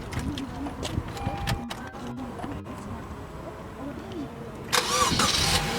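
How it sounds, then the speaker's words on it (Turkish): A car engine cranks and starts during a safe-driving lesson for people with disabilities, a close burst of starter whirr and engine catch near the end, preceded by a quieter interior with faint murmurs. "çalıştıralım arabayı"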